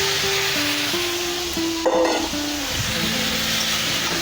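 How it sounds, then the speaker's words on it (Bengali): Spinach chicken frying in a little oil, a dense, steady sizzle close to the pan, with stirring scrapes and a brief burst of louder hissing midway, no talking. "আমি অল্প তেলেই রান্না করছি পালং চিকেনটা"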